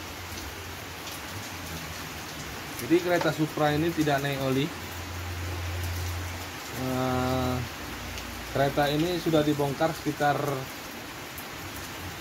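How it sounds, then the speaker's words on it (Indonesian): Steady rain falls outdoors during a motorcycle oil pump repair, a constant hiss running through the whole stretch while someone talks over it in short bursts. "Jadi kita sekalian diguyur hujan."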